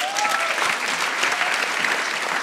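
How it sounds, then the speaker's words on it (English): Audience applause at the SensUs 2017 award ceremony as the organization chair is called to the stage, dense steady clapping from a large crowd, alone without talk. "A round of applause for Anna, please."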